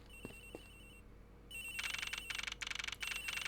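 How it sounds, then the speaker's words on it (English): Telephone ringing in the Ace Attorney Investigations video game, set in a flight attendant's room aboard a passenger plane: a couple of short electronic trills, a brief pause, then repeated bursts of bright, urgent ringing. "Sounds like the phone is up in the flight attendant's room"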